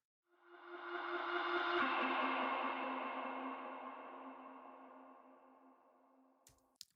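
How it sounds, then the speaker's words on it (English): A swelling reversed-reverb sweep built from a mangled vocal, rising into a washy sustained tone that slowly fades, followed by a few sharp impact clicks at the end, quiet overall and alone. "And that gives us this cool sweep and impact sort of sound"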